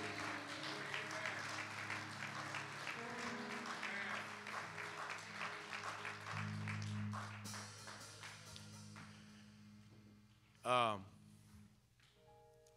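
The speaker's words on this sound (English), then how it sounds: "let's give God a hand clap of praise" A worship congregation claps hands in praise during a church service, producing a sustained rhythmic round of applause mixed with voices and organ-like tones that fades out, followed by a short vocal outburst.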